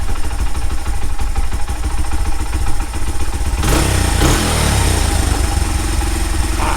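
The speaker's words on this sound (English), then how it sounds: "It's running perfect. Idle might just be a hair high." A Honda CRF80F dirt bike idles loudly and close by in a garage after a cold start, a continuous buzzing, slightly high idle with a brief rise in pitch partway through.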